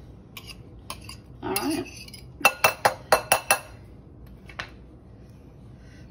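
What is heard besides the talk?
fishing a small bowl out among dishes, clinking glass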